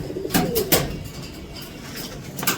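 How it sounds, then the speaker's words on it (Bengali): A Lahore pigeon with white, red and brown plumage, kept in a loft with chicks and eggs, gives a few soft, close coos with short pauses between them, with no voices. "এই যে এই সাদা লাল ব্রাউন কালারের ধর লাহোরে কবুতর"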